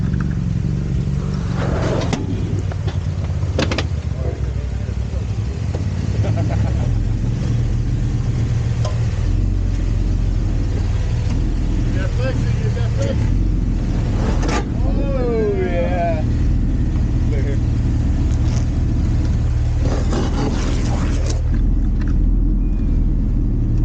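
Jeep Colossus rock crawling on Little Moab trails at Rainbow Falls, Colorado, a steady low engine rumble with occasional revs and knocks, close up, with people talking over it.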